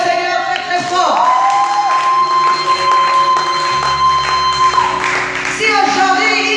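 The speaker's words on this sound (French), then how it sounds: "Et acclame le Seigneur très très fort." A congregation at a church service cheers and acclaims the Lord loudly, a dense continuous crowd roar with whoops and shouts over sustained music, holding steady throughout.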